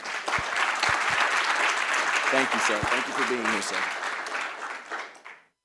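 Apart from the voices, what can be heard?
warm round of applause for a doctor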